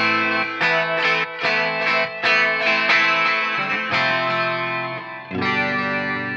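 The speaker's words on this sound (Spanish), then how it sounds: "Puedes ponerle solo con distorsión para escucharle." An electric guitar, a Tom Delonge signature Stratocaster, rings out through a distortion effect, with sustained driven chords and a few note changes played loud and up front, a slight chorus-like shimmer, and no talking.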